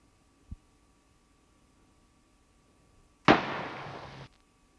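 A gunshot sound effect placed in a Pinnacle video editor timeline: a faint short click, then about three seconds later a single loud sharp bang with a rough noisy tail lasting roughly a second over a low steady hum.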